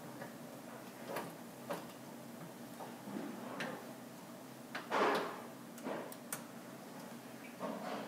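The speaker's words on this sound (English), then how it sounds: "Seal the door tightly." An autoclave door being sealed shut: scattered metallic clicks and taps, then a firmer thud and latch sounds midway, close and fairly quiet over a light background hum.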